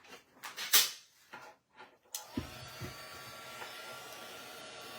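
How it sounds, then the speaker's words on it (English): Heat gun blowing a steady hiss to melt embossing powder on a Christmas craft project, starting after a few clicks and rustles and then running as a continuous close airy whoosh. "it's going to be a little bit loud while I go ahead and emboss this."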